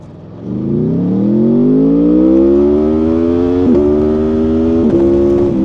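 A 2025 Aprilia Tuono V4 Factory motorcycle engine revs up loud and close, climbing steadily in pitch and holding a high smooth howl, with brief blips near the end.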